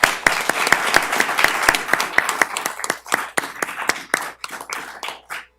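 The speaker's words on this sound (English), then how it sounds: "One more round of applause for him, please." Applause at a water authority board meeting for an honored guest, led by a few loud, sharp, rhythmic claps up close over a thinner spread of hands, gradually thinning out and tapering into scattered claps at the end.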